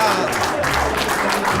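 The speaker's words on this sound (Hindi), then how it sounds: "आपको नाना की टिप्पणी के बाद बजने वाली तालियों पर गौर करना चाहिए।" Audience applause following a comment at a journalism commentary show, a brief dense burst of clapping heard close and loud, with a murmur of voices underneath.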